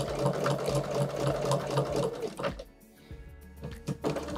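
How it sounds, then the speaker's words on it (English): A sewing machine quilts with a walking foot attached, running in quick rapid stitching bursts that pause and then resume in short runs, close and fairly quiet. "And I'm just sewing along lines"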